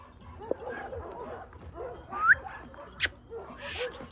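A dog lets out faint whimpers and short yips close by, mixed in with quiet background talk and a few brief higher squeaks.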